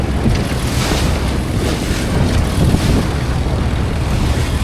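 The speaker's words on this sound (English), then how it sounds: "Still a few big waves." Big ocean waves surge around a sailing boat at sea, a loud, continuous wash of water mixed with wind buffeting, swelling and easing slightly but never pausing.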